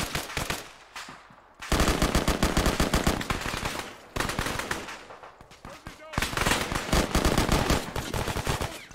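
Sustained bursts of automatic gunfire during a team shooting operation in a game, loud and close, several long rattling volleys separated by brief pauses.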